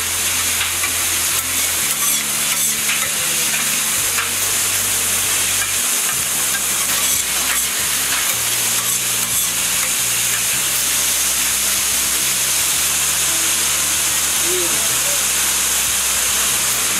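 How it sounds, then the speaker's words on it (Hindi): Tadka tempering sizzles hard in a pan at a kulcha street stall, a loud continuous frying hiss with stirring and occasional scraping, steady throughout with street noise around it. "ये तड़का लगाने लगे आपको, तड़का लगाने से अंदाजा हो गया था कि इनकी क्वालिटी कैसी है।"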